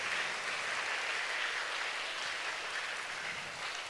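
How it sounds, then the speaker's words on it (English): A school assembly audience claps together in steady, dense applause, a continuous even patter of many hands with no voices over it. "Let's give our sirs a big round of applause and thank them."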